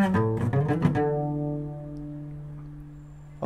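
A requinto guitar rattles off a fast run from a song, a quick burst of plucked notes that ends on a held, ringing tone fading out alone.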